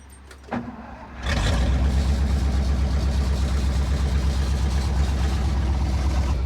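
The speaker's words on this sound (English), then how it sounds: "A little fast idle." A 1962 Ford C750 cabover truck engine cranks and catches on a snowy cold start, then settles into a loud, steady fast idle with an even low throb close by.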